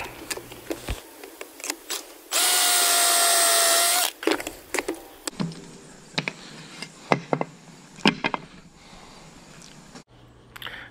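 A drill bores pocket holes into a wooden board held in a pocket hole jig with a clamp: clicks and knocks of handling, then a steady whining drill run of about two seconds, followed by more taps and clatter.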